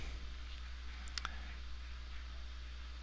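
A computer mouse clicking on a link, a quick faint double click near the middle over a steady low background hum.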